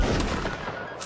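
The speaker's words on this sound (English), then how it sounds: "Start shooting at those redcoats." Muskets fire in the video game LineBattle, a loud burst of overlapping shots crackling together, fading briefly, then another shot close by.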